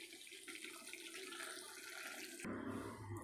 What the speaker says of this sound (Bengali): এবার জল দিয়ে প্রেসারে দিয়ে দেবো।